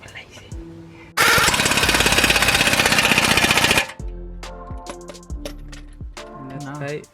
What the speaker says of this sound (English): I'm just gonna tighten with the impact because we're lazy